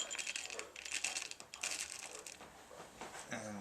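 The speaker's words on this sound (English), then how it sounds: "Mix that with our nuts." Chopped celery and nuts tossed together in a bowl for an ancient Roman dish, giving faint, close, scattered crunchy clicks and rustles.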